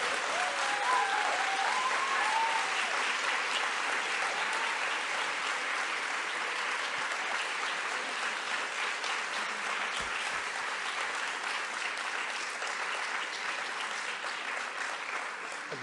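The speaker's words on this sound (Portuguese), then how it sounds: "Agora que vocês vão bater palmas" Sustained applause from an audience after a political speech in Paris, a dense steady wash of many hands clapping at even loudness throughout, with no talk over it.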